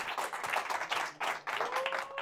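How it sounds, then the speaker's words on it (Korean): A live audience at a Korean book forum talk applauds to welcome a guest speaker, a burst of dense clapping that rises and dips across a couple of seconds at moderate distance. "박수로 환영해 주세요"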